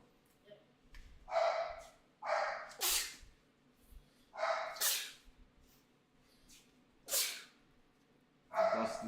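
Short, breathy barks from a dog, arriving in separate bursts with pauses between them, moderately close in a quiet room.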